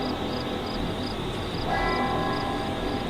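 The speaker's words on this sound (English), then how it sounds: "For whom does the bell toll?" A church bell tolls steadily with soft, evenly spaced ringing strikes over a constant low hum, fairly faint and with no voices.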